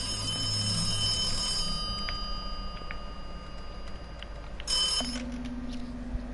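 A telephone rings in the video game The Occupation: a steady, high, electronic ringing tone that holds throughout, with a brief louder burst near the end and no talk over it.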